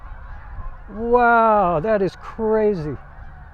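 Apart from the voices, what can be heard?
flock of geese honking while flying overhead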